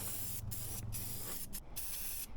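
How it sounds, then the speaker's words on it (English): Aerosol spray paint hissing steadily onto plastic parts, coating them black, in several continuous bursts with brief gaps, close and fairly quiet. "decided to paint it all black with a plastic-compatible spray paint"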